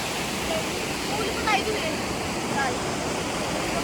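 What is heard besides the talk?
river water flowing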